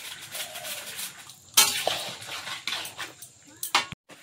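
Meat and potatoes for biryani are stirred and sautéed in a pot, with scraping spoon strokes, metallic clinks and a soft sizzle underneath.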